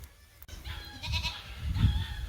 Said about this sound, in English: All right, baby goat number 2, 90 minutes old.